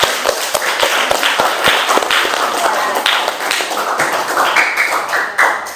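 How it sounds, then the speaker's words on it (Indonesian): A classroom audience claps hands in an irregular, crisp patter of separate claps that runs the whole way through, moderately loud and close, with no talking over it. "Tepuk tangan, kasih tepuk tangan dulu."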